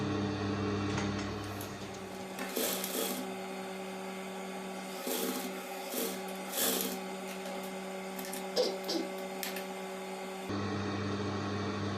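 Sewing machine stitching blue and milk-white patchwork fabric pieces together, running in several short bursts with pauses between, steady and close over a low motor hum.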